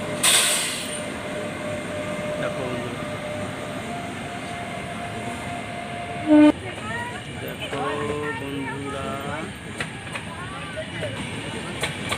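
An express train rumbles past with a steady mechanical roar, a short whistle-like tone sounding partway through while people talk over the noise.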